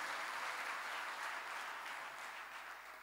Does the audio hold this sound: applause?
yes